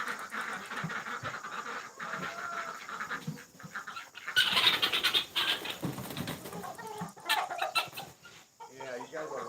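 Chickens on a farm cluck and squawk steadily close by during feeding chores, growing louder and busier midway, mixed with faint movement noise.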